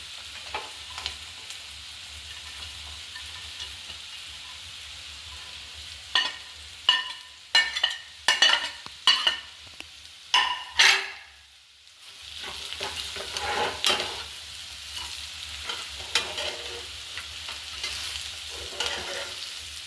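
Kozhuva fish frying and being sautéed in a pan for a roast: a steady low sizzle with a run of sharp scraping stirs in the middle, a brief quiet, then the sizzle rising again, no voices.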